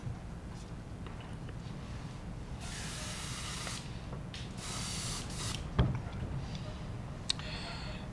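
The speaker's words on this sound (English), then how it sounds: "Give the airbrush a real quick rinse." An airbrush gets a quick rinse, giving two bursts of hissing spray of about a second each, close by, between quieter stretches with a sharp knock near the end.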